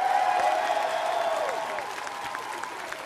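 An audience at a video game event applauds a speech, a steady wash of clapping from a large crowd that slowly thins over three seconds.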